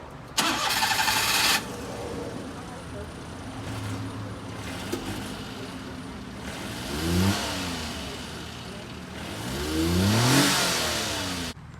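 A mini truck with stock exhaust cranks and starts with a loud burst, then settles to a rough idle broken by two rising revs that climb and fall away, moderately near and without talk.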